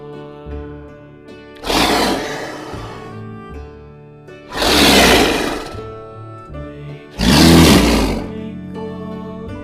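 A leopard roars three times as a sound effect, each a loud, rasping burst lasting about a second and spaced a few seconds apart over a steady backing of children's music.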